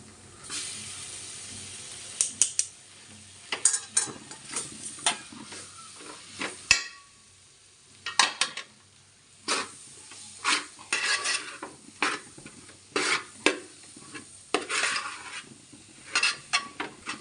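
Onions and chillies are stirred in a pan: a spoon scrapes and clatters against the metal in irregular bursts, with a soft sizzle between the strokes.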